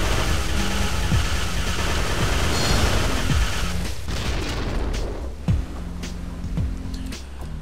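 Rumbling explosions and booming blasts as a heat sink is destroyed in a fuel refinery level of Descent 3, loud and continuous with dense low roar and sharper bursts toward the end.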